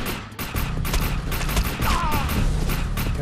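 Gunfire in the sci-fi shooter Defiance during a fight with mutants, a fast, steady series of loud shots repeating several times per second and continuing throughout amid dense game noise.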